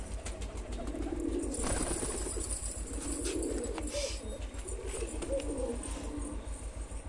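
A large female pigeon, about a year and a half old, coos in a steady low throbbing rumble that runs throughout, with faint chirps and light rustling nearby.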